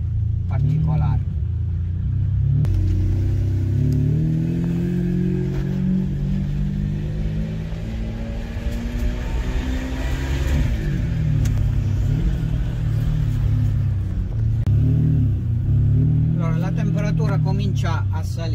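A Ferrari 550 Maranello idles and revs while waiting at a gate, a deep rumbling engine note that swells and falls in several blips over a steady idle, close and loud, with someone talking over parts of it.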